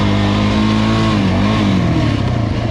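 Suzuki LTZ400 ATV engine revving loud and close, pitch rising then dipping as it shifts up a gear, steady throaty drone throughout with no talking.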